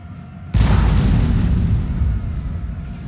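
A cannon firing grape shot in a Napoleonic battle game between France and Russia, a single loud, close boom that erupts suddenly and decays into a long, rumbling tail.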